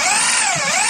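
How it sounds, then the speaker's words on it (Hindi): Drill machine boring a hole for a concealed hinge into a door frame, a brief, loud motor whine whose pitch dips and then rises again within about a second. "हम इस हिंज को अब दोबारा चौखट के अंदर भी इसी तरह से हम गलाएंगे इसको ड्रिल मशीन से"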